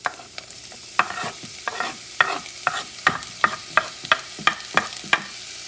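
Onions, mushrooms and peppers being stirred in a frying pan, with a steady soft sizzle under a regular series of sharp scraping and clacking strokes from the utensil, close and fairly loud.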